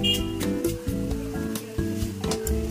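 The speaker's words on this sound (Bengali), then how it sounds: "এরপরে যতক্ষণ আলুটা ভাজা হচ্ছে" Potato pieces frying in a pan give a close, crackling sizzle, punctuated by clattering stirs and knocks, with no voices.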